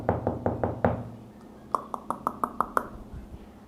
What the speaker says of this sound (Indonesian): tiba-tiba ada suara ketukan pintu di depan